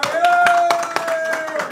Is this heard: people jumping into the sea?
no